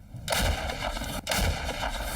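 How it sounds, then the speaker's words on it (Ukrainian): Two heavy booming blasts of artillery fire during fighting in Donetsk region, Ukraine, about a second apart, each followed by a rumbling tail, loud and dominant with no talk. "Постріл!"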